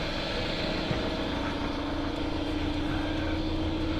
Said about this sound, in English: I'm purging the system, I'm blowing air through it so it can be a little loud for a minute